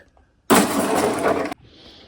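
Glass back panel from a gas hob shatters as it is pulled out during a motorhome kitchen strip-out: one loud, close crash of breaking glass lasting about a second, followed by faint settling debris.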